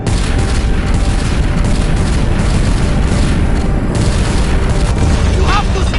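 Weapons fire in the Guardians of the Galaxy game, a dense, loud barrage of rumbling booms and blasts that runs steadily throughout, with voices briefly audible in the mix.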